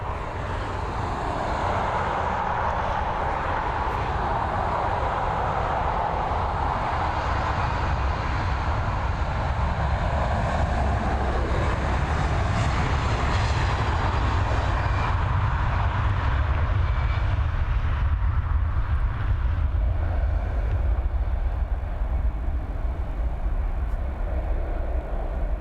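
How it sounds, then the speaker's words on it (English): An Airbus A320 departs Dublin Airport for Palma, a loud broad rumble of jet engines building and holding steady, then thinning and fading toward the end. "Actually, a 320 departing before it."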